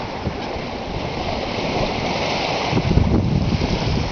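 Open-sea water and small waves slosh against a single-handed sailboat between Panama and the Marquesas, a steady close wash mixed with wind rumble that swells a little near the end.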